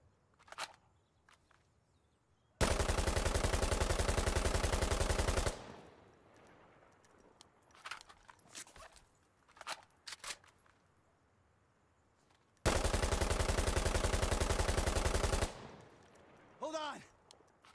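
Assault rifle bursts in Insurgency: Sandstorm, two long sustained full-auto strings of rapid loud shots, each about three seconds, separated by quieter handling clicks, rattles and footsteps, with a brief voice-like sweep at the end.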